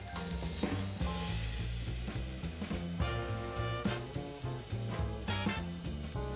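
Festive curry made with leftover Christmas dinner ingredients sizzles steadily in a pan as cranberry is stirred in, with continuous close frying crackle and soft scraping under background music.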